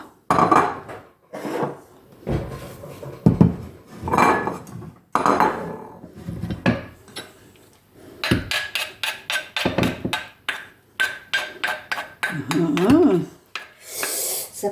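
Dishes and cutlery clink and scrape in sharp, irregular bursts as food is served onto a plate in a home kitchen. The sounds are close and loud, with a voice heard at times.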